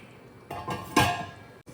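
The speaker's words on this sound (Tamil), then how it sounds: "இப்போ மூடி வச்சிடலாம்." A lid is set onto a pot of simmering brinjal curry (ennai kathirikkai kulambu), giving a couple of close metallic clanks, the loudest near the middle, against quiet kitchen background.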